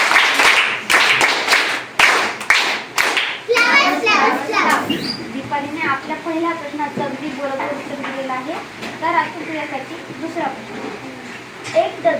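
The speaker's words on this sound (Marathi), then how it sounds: "टाळ्या वाजवायच्या आहेत" Schoolchildren at a Zilla Parishad primary school quiz clap their hands, several sharp, loud claps in quick succession at the start, followed by lively children's voices talking and calling out.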